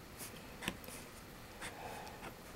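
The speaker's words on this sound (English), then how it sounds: "I'm just going to take my marker and I'm going to run up these lines that we made for the veins" A marker drawn along scored vein lines on paper makes faint, brief scratchy strokes in a quiet room, a few short squeaks and swipes with no talking.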